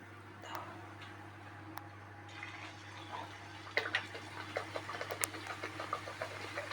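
Dal puri frying in hot oil, with crisp crackles and spits that grow busier partway through over a low steady hum.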